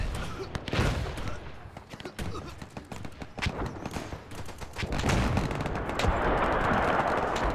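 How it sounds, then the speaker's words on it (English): Machine gun fire in the WW1 strategy game Between Empires, rattling bursts and scattered gunshots in a dense battlefield din that swells louder toward the end. "There seems to be machine gun fire coming here"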